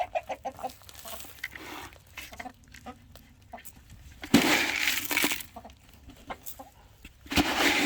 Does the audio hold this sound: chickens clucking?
yes